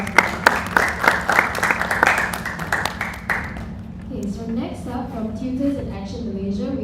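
A round of applause for a speaker at a youth event on Taylor's University Lakeside Campus, brisk crowd clapping for about three seconds that fades out as a host starts talking.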